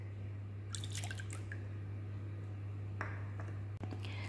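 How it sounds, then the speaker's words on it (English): Milk poured into a bowl while mixing batter for eggless chocolate cupcakes: faint, scattered drips and small liquid splashes heard over a steady low hum, with no talking. "Add 125 millilitres of milk."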